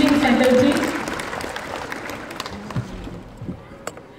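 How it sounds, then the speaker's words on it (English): Parents at a school annual day program applaud the teaching faculty, a loud burst of clapping at the start that quickly thins into scattered claps with faint voices. "please give a good round of applause for our teaching faculty"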